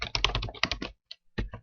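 Quick burst of computer keyboard typing into a spreadsheet, a close, rapid run of key clicks followed by a short pause and a few more taps.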